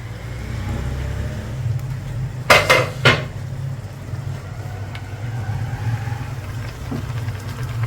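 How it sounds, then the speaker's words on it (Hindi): A brief burst of clattering pots and utensils while cooking mutton bhuna gosht, a few sharp metallic knocks close by, over a steady low hum of a stove or fan. "बर्तनों का थोड़ा बहुत शोर होगा"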